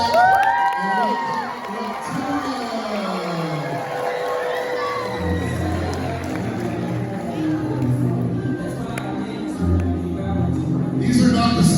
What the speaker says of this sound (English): So moms and dads, kids of all ages, let's give a big cheer for these amazing reptiles.